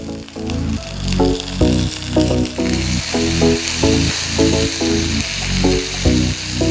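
Cumin, black pepper and curry leaves crackle and sizzle in hot sesame oil for a tempering, a steady close frying hiss with rhythmic bursts of popping and stirring, no voices.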